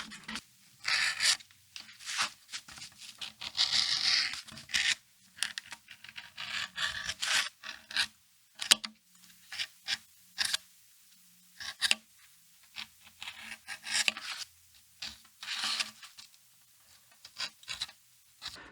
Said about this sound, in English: and then we'll do a bit of sanding.